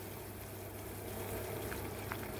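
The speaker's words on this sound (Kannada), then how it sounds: "ಈಗ ಚೆನ್ನಾಗಿ ಕುದಿಲಿಕ್ಕೆ ಹತ್ತದೆ" Salted water boiling in a pot for rice rava upma, a steady close bubbling rumble with no pauses.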